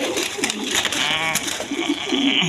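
Pigeons of various breeds kept for sale cooing softly nearby, with several overlapping throaty coos and other bird calls in the background.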